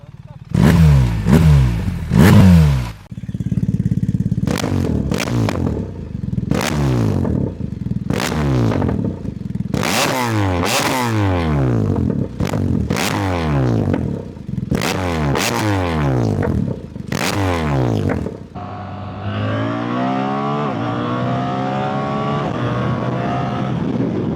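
A BMW R1300GS motorcycle fitted with a Black Widow exhaust runs repeated loud second-gear pulls, each rising rev sweep ending in a gear change, before the engine settles to a steadier drone at the end.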